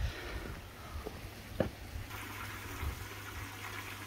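Water from a koi pond waterfall flows in a steady, soft rush, with a low hum underneath and a few faint splashes and knocks, quiet and close.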